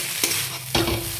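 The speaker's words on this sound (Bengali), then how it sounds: "হালকা করে নেড়ে নেব সবজিগুলো দিয়ে" Chow mein noodles stirred with vegetables in a frying pan, two scraping stirs over a steady sizzle, close and fairly loud.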